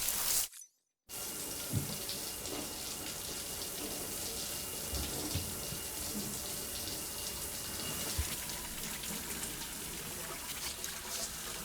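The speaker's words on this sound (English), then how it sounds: "Take a shower." A shower runs in the video game Death Stranding, a steady broadband hiss of falling water that starts after a brief silence and continues close and loud, with faint clunks and taps underneath.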